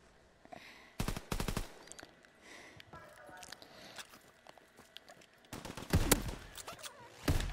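Gunfire in a Call of Duty match comes as rapid automatic bursts near the start and again louder toward the end, with quieter game noise in between.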